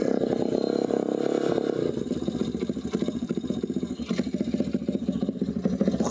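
A quad's engine is kick-started and catches, moving from a rough, uneven first turnover into a fast, steady running putter close by, with no talking.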